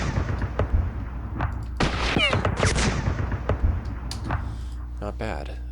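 Gunfire and artillery fire in a WWII strategy video game set on the West Front, with rapid shots, sharp cracks and booms layered together in a dense, continuous barrage.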